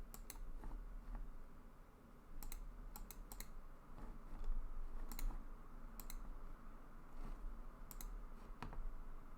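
Sparse, light keyboard keystrokes and clicks scattered over a steady low hum, quiet and close, with a few isolated taps spaced apart and no talking.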